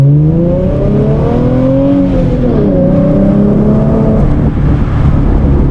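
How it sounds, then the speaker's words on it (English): A manual car engine revs hard in first gear from about 10 miles per hour and climbs in pitch as it accelerates, loud and close, with the tone rising steadily over several seconds. "I'm still in first gear going around 10 miles per hour and I'm gonna gun it."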